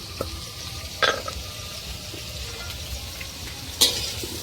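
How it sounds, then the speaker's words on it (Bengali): A steady sizzle of potatoes and whole vegetables frying in a pan, with a couple of sharp clinks from stirring. "এখন এই আলুগুলো সব দিয়ে ভাজাভাজি হচ্ছে গোটা সবজি দিয়ে"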